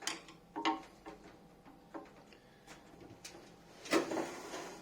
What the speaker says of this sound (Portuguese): Vou já estar virando e tirando a tampa.